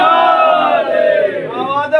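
A crowd at a religious majlis gathering chants a slogan loudly in unison, many voices rising and falling together in a sustained, echoing cry.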